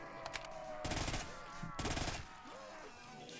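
A Honey Badger rifle fires in Call of Duty custom zombies, with two sustained automatic bursts, each about a second long, separated by a short pause, plus a few faint taps before them.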